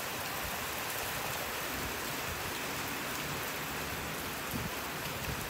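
Heavy rain pours steadily outdoors as a dense, continuous hiss of drops striking surfaces, loud and unbroken throughout with no voices.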